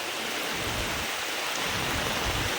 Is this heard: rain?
yes